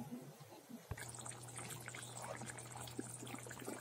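Curry sauce for tangra fish in oil and chili bubbles in a pan after the fish goes in. A soft, steady simmering fizz runs throughout, with a faint low hum and small popping bubbles.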